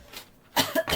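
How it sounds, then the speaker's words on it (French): A person coughs several times in quick bursts, close and fairly loud, during a paper-craft session making an album to store cutting dies. "je tousse, je tousse."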